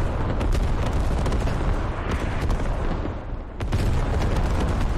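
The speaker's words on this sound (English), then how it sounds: "Arty has a big ass boom." Video game artillery fire roars in dense, loud, continuous booms and rumbling blasts, easing briefly before the barrage surges back at full strength.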